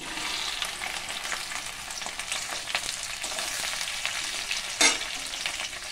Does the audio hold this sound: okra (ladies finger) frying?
yes